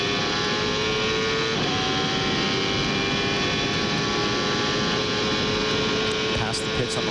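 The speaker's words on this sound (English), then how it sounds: "Let's listen to the engine here." A 1995 IndyCar engine screams at high revs down the main straight of the Surfers Paradise street circuit, heard from onboard as a loud, sustained whine that holds steady from start to finish.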